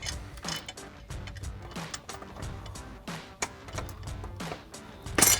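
Close-up metallic clicking and ratcheting while a bolt is threaded by hand into a front bracket for Runner RedRock 3-inch side step bars, irregular taps and turns over a faint background hum, with a sharper clack at the end.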